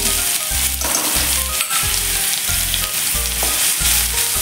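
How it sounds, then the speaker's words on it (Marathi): Green chillies frying in a small amount of hot oil, crackling loudly and steadily, with repeated rhythmic stirring scrapes against the pan and no talking. "आपले तेल गरम झाले की मग त्यामध्ये आपण मिरची घालून घेऊया"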